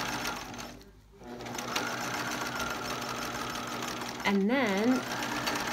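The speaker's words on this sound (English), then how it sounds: "keep coiling and do that zigzag stitch to catch both pieces of rope" A sewing machine zigzag-stitches coiled rope together for a rope rug, running steadily through most of the stretch with a brief pause early on; a voice speaks a couple of words near the end over the hum.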